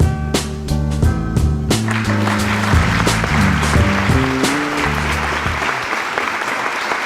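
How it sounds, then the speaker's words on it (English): A crowd claps steadily in loud applause while music plays along, the clapping dense and sustained before fading slightly near the end. "Round of applause."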